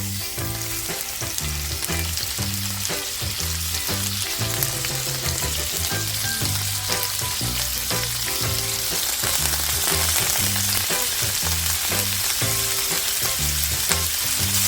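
Seasoned cod fillets frying seasoned-side down in a pan with a little olive oil, giving a loud, steady, continuous sizzle and crackle throughout.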